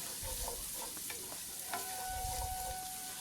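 Onion, garlic and ginger paste frying with softened onions in a pan for chicken biryani: a steady close sizzle with intermittent stirring scrapes and clinks, no voices.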